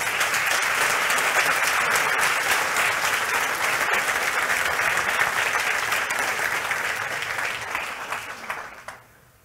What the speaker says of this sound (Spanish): Dale un fuerte aplauso al Rey.